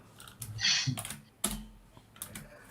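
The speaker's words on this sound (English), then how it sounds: "Can you hear his mouse and the keyboard?" A computer mouse and keyboard are used at close range: scattered irregular clicks and key taps, a few grouped together, over a quiet background with no speech.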